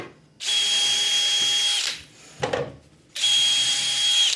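Two bursts of a power drill whining steadily into wood as it bores dowel holes through a JessEm dowel jig, with a short rough scraping pause between them, close and fairly loud.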